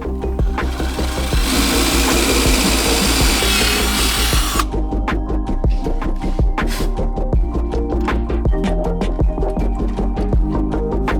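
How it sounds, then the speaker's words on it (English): A power drill bores a hole in a chassis-mount front splitter on a 2008-2014 Subaru WRX STI, loud and close, a sustained whine with rapid grinding pulses, then a rougher stuttering bite through the material. "drill a hole there to mount the side bracket"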